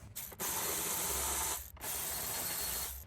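A ratchet spins out 10mm bolts on a 2007–2018 Jeep Wrangler airbox: two close, fast clicking runs, each about a second long, separated by short pauses. The clicks are crisp and sound alone.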